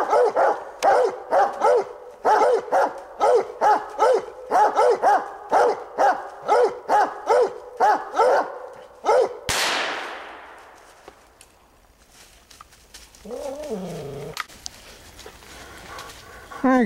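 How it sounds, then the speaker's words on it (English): A bluetick coonhound barks steadily on a nighttime raccoon hunt, a long run of loud, evenly spaced bawls close by, then a sharp bang and quieter rustling with a brief voice. "We'll get to hear the dog a little bit"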